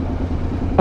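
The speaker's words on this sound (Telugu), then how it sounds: "ఏం ట్రాఫిక్ రా ఇది." Low, steady rumble of road traffic and passing vehicle engines, close by and continuous, with a louder surge at the very end.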